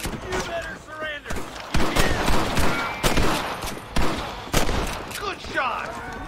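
Rapid gunfire in Red Dead Redemption, a dense fusillade of sharp overlapping shots and bursts, loud and close, mixed with shouting voices and game effects.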